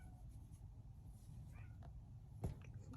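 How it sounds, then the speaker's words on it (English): A house cat meows and cries at a door, faint and a few rooms away, with short soft calls and one sharper cry near the end over a low background hum. "my cat's crying at the door"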